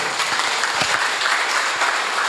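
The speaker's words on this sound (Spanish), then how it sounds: "el aplauso es para ustedes" An audience at a forum on due diligence and worker protection gives a brief, dense burst of applause, loud and continuous with no pauses.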